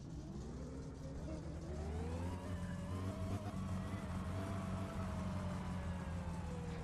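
A car driven at night in the game My Summer Car: a steady engine drone that slowly rises in pitch as it accelerates, continuous and moderately loud throughout.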